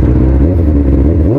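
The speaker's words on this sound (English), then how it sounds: "this exhaust is pretty fucking beast" A 2003 Kawasaki ZX-6R with a MotoGP exhaust, heard close and loud as a brief, throaty engine note with a slight pitch rise at the end, with no voices.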